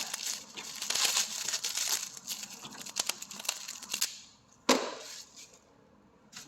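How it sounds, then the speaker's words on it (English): Small plastic trim pieces with elastic fasteners pulled off a Ford Escape during a P1450 repair, making close crinkling, snapping and scraping clicks in quick bursts, ending with a sharp pop and a few lighter clicks. "I'm going to take off all these little plastic pieces with the elastics"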